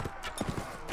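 Horse hooves clip-clop in the video game Mount & Blade: Warband during a battle, four or five quick, close hoofbeats in a brisk galloping rhythm with no voices.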